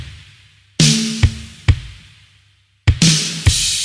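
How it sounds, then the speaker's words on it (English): A big 1980s-style snare drum with gated reverb, from a song, hits in isolation, each sharp crack opening into a bright, dense burst of reverb abruptly cut off. Several strikes in an irregular pattern, close and loud, no talking. "So we're going for this 80s gated reverb sound on the snare."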